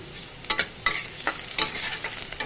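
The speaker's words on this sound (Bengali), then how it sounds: "পেঁয়াজগুলো আমার ভাজা ভাজা মতো হয়েই এসেছে" Sliced onions fry in a hot pan, a close, dense sizzle with several quick scraping stirs of a spatula against the metal and no voices.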